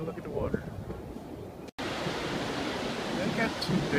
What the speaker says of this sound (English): They got some big surf here.